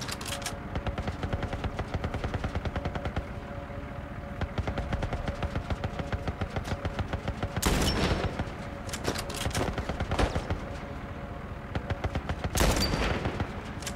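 Weapons in a shooter video game fire rapid automatic bursts, with dense, loud, continuous rattling shots and a couple of sharper, heavier blasts standing out, and no voices.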